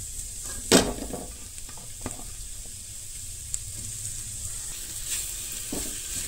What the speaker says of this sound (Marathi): तर टमाट सुद्धा हांगसर बऱ्या तरेन अशें हे करून घ्या, भाजून घेया।